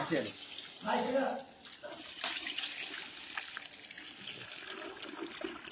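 Water poured over 10 kg of rice for mutton biryani, a brief gushing splash followed by softer trickling and sloshing, with a person talking over it.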